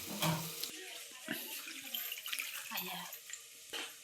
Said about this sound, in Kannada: ಅಕ್ಕಿ ತೊಳೆದ್ಬಿಟ್ಟು ಹಾಕಬೇಕು